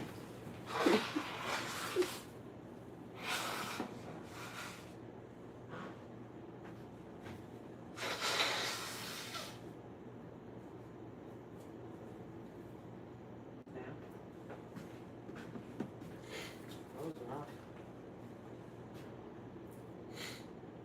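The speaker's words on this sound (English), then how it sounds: "Hold on, I gotta blow my nose." A person blows their nose indoors in a few close, breathy bursts, the loudest near the middle, with quiet gaps between.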